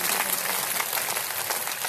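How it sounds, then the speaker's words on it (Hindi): Audience clapping at a religious discourse gathering in Noida, a steady dense wash of applause filling the whole stretch at moderate level, with no pauses and no voices standing out. "इनके लिए आप जोरदार ताली बजाएं जिसको कथा अच्छी लगी।"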